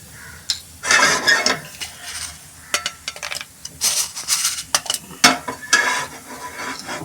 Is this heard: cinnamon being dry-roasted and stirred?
yes